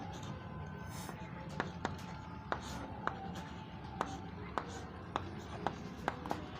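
Pen strokes scratch on paper while a maths step is written out, with a series of short, sharp taps and scribbles at irregular intervals, quiet and close over faint room noise.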